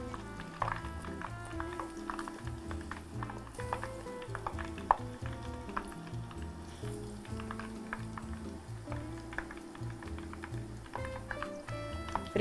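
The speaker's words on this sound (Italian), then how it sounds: "Friggiamo bene." Hand-cut eggplant slices fry in very hot oil, giving a steady, busy sizzle and crackle that runs unbroken from start to finish.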